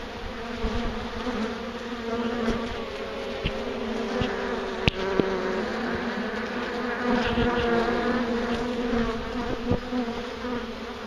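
A dense colony of honey bees hums steadily and loudly during a bee removal in Wellington, Florida, the close, continuous drone filling the scene with a few faint clicks and knocks, and no voices.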